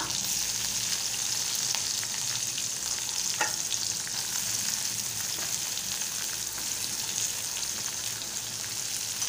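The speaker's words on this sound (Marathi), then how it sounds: "आता चांगलंसं तेलात परतून घेणार आहे मी आणि थोडा वेळ फ्राय होऊ देणार आहे मी।" Chopped onion and green chilies frying in hot oil with garlic cloves, a steady dense sizzle throughout with a couple of faint clicks of a utensil, no voices.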